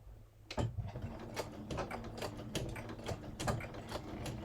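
A sewing machine back stitching through a shirt gives rhythmic mechanical clatter, steady and close, with repeated needle strokes in quick succession.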